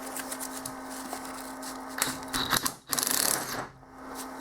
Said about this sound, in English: When you tighten the bolt down, it'll pull the pulley up.